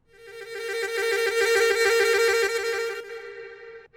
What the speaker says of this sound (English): this is the sound of a duduk.